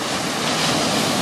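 Ocean surf at a Los Angeles beach rolls in as a steady, loud, broadband roar with no distinct breaks, heard alone without voices.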